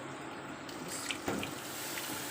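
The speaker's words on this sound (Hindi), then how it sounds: "थोड़ा सा डालेंगे इसमें पानी," Water poured into a pot of dhaba-style beef karahi with halved tomatoes: a soft, steady trickling stream, faint and close, with a couple of light splashes and no talking.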